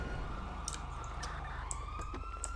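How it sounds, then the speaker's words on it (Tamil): A police car siren wails in a roleplay video game, a faint sweeping tone under a steady low engine hum, with brief clicks scattered through. "சைரன் எல்லாம் ஆஃப் பண்ணுங்க"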